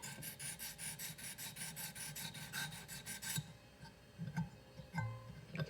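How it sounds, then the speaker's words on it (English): An extremely fine cylinder bore hone rubbing up and down on a vise-clamped La Rosa marranzano (jaw harp) trigger, making a rapid, even rasping scrape that stops partway through and then leaves scattered light clicks and handling noises. "I've got a extremely fine cylinder bore hone here. We're just going to go rub on there."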